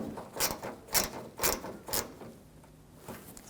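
Ratchet tightening the screws on the front upper grille of a 2007-2013 BMW 328i, a few short clicking bursts in a steady rhythm, close and moderately loud, with no talk.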